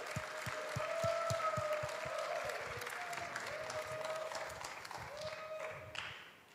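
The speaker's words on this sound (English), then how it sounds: "let's give a big round of applause for our pastor" A church congregation applauds their pastor during a Sunday service, a sustained wash of clapping from a sizable crowd, steady and moderately loud for several seconds before tapering off near the end.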